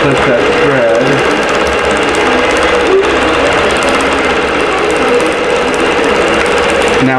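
A sewing machine running continuously and loudly, stitching row 3 of a Winter Wonderland tree skirt with a dense, even mechanical chatter throughout.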